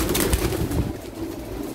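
A pigeon coos softly in short repeated low pulses, close by, with no talking.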